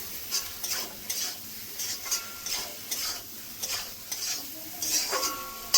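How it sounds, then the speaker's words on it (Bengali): Potatoes are stirred into fried spice masala in a pan, and a spoon scrapes and taps the metal in regular strokes about once a second over a soft, close sizzle. "মশলাটা কষানো হয়ে গেছে, আলুগুলো দিয়ে দেবো। আলু দিয়ে একটু মিশিয়ে নেব মশলার সঙ্গে।"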